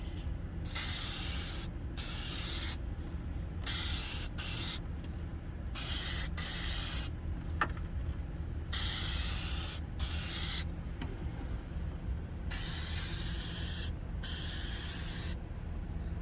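Meguiar's headlight coating sprays from an aerosol can onto a wet-sanded, polished headlight in repeated short hissing bursts separated by brief pauses, close and fairly quiet over a low background hum.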